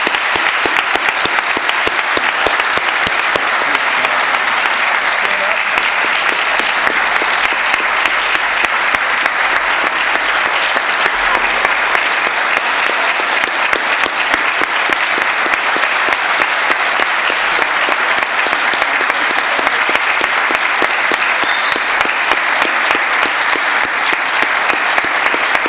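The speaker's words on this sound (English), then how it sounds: "Let's give another round of applause to the 11 newest members of the Dondero Hall of Fame." A large audience at a Hall of Fame induction ceremony applauds steadily and loudly, a dense unbroken roar of many hands clapping for nearly half a minute.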